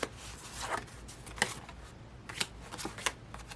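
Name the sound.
handling a bunch of paper cards and envelopes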